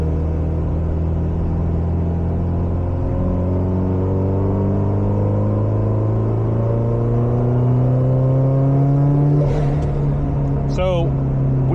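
A turbocharged Subaru WRX STI engine revs up steadily with rising harmonics and a faint turbo whine building toward peak boost near 5,000 RPM, ending in a brief high-pitched chirp as boost releases.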